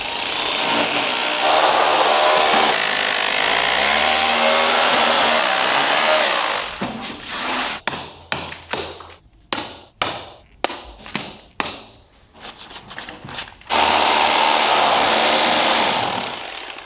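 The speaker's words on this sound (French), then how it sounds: "Libère le tout avec le marteau perforateur." A rotary hammer drill breaks out material while a roller shutter box is renovated, hammering loudly and close in a series of stuttering bursts of several seconds, with a continuous loud power-tool roar before and after.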